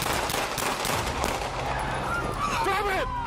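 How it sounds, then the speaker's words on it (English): Gunshots ring out during a police confrontation with an armed suspect, sharp reports buried in dense, loud, chaotic noise. Shouting voices rise near the end. "Shots fired! Shots fired!"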